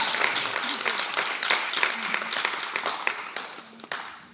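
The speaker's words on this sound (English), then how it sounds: "Big applause, and we can start." A dance competition audience applauds for top Russian dance couples, with dense, steady clapping from a crowd filling the whole stretch, close and fairly loud, with no speech over it.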